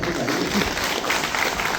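An audience claps together for a moment, a dense patter of hands with crowd noise mixed in at moderate level.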